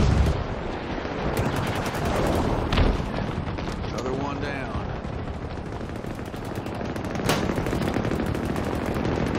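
Rapid video-game gunfire from Halo rattles in dense bursts alongside booming explosions, loud and continuous, while players talk over it.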